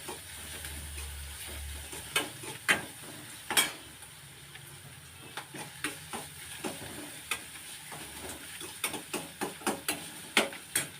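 Onions sauté in a pan under a soft, low sizzle, broken by frequent sharp clicks and taps of a spoon scraping and stirring against the metal in an uneven rhythm.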